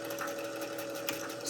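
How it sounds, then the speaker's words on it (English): A sewing machine stitches a seam on a feed bag tote, running in reverse and then forward to lock the end, with a steady close motor whir and fast needle hum. "I'm going to put my machine in reverse again, and then forward to get that stitch to lock at the end of the"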